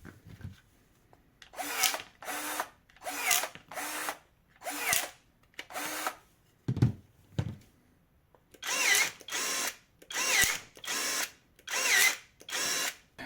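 Parkside PPAAS 20-Li A1 cordless pruning shears cut dry hardwood in repeated short motor bursts, about a dozen close whirring snips in pairs with brief pauses, and a woody crack in the middle.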